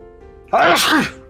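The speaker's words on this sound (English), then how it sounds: "I'm gonna sneeze." A single loud, voiced sneeze bursts out suddenly after a moment of quiet, then trails off.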